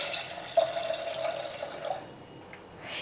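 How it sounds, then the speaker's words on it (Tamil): Three-quarters of a litre of water pours onto washed kodo millet in a pot for porridge, a close splashing trickle that fades out near the end. "இதுக்கு வந்து 3/4 லிட்டர் தண்ணி ஊற்றிக்கலாம்."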